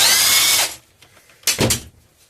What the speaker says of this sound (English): you don't want to use the impact wrench to break the bolt.